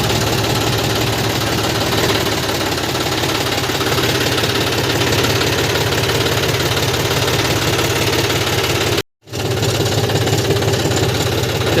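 A John Deere tractor engine runs steadily at close range, a loud continuous rumble with rhythmic knocking, broken only by one brief dropout near the end.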